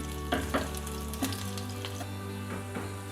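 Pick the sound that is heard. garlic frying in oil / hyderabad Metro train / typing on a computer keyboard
garlic frying in oil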